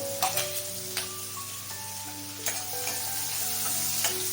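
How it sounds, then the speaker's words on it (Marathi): Onion sizzles and is stirred in a hot pan with cumin for a suran (elephant foot yam) dish, a steady crackling fry with scraping stir strokes, background music tones running underneath. "आपण कांदा टाकून कांदा आपल्याला लालसर पडतो कलर बदलला पाहिजे"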